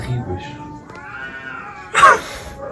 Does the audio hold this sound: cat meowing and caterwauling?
yes